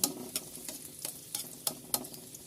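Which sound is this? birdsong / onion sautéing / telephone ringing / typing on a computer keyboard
onion sautéing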